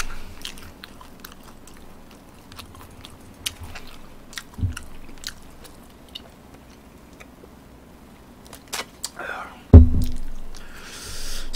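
Someone eating garlic and spicy fried chicken, with scattered soft bites, wet chewing and small crunches through a quiet room, and one louder bite near the end.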